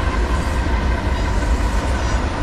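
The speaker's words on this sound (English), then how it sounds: "We got train 11N." Freight train 11N, a short train on a New Jersey line running at full speed, roars past close by in a loud, steady rumble of wheels and cars with no voices.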